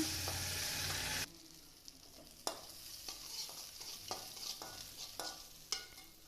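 Chana dal sizzles steadily in a pan, loud and continuous at first, then softer crackling frying broken by a few scraping stirs of a spoon, heard close up with no talking.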